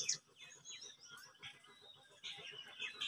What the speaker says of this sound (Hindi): शांत होकर सुनिए चिड़ियों की चहचहाती हुई आवाज़, कितनी सुंदर मधुर लग रही है।